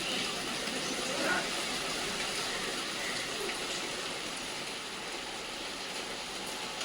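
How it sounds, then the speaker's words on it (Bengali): Light drizzle falls under a cloudy sky, making a soft, steady hiss that stays faint and even throughout. "সে শিরশির করে বৃষ্টি হচ্ছে।"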